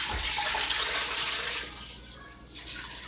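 Tap water pours steadily into a pot of collard greens, a broad continuous rushing splash that eases slightly midway and then swells again, close and alone without talk.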